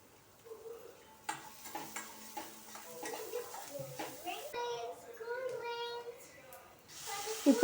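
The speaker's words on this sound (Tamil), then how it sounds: "இப்போ இந்த ஆம்லேட் வந்து ரெடி ஆகிட்டே இருக்கட்டும்" An egg omelette frying in a pan for egg bread chilli, with sizzling, spatula stirring and scraping against the pan, while voices, including a child's, talk throughout.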